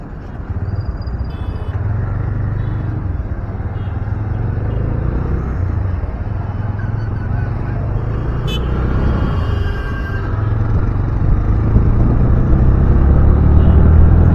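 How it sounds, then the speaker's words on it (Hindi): TVS Raider 125cc motorcycle riding on a road and turning right at a small junction, a steady engine drone with heavy wind rumble that builds slightly louder toward the end. "अब मैं अपनी बाइक से यहाँ से राइट का टर्न लूँगा और जिंद की तरफ"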